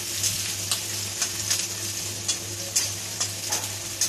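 Chopped onion frying in a pan, a steady sizzling hiss broken by regular scraping strokes of a spatula every half second or so, close and clear, no speech.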